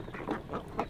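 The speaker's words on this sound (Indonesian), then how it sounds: "Bebek dan entok ini ketika sudah diberikan makan maggot BSF" Ducks and muscovy ducks feeding on BSF maggots give a brief burst of close, nasal quacks, about three in under a second.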